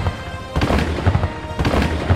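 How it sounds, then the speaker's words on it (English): A fuse-lit novelty cannon fires twice, each shot a loud, close boom with a rumbling, crackling tail over a busy noisy background. "we fire off Captain Cork's Cannon of Truth"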